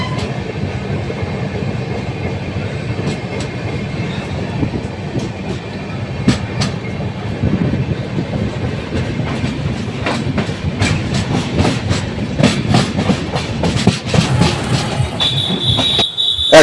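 A long-distance passenger train between Kolkata and Mumbai runs on rails past a station, its loud steady rumble heard from inside carrying rhythmic clickety-clack wheel beats and a faint squeal near the end, with no voices.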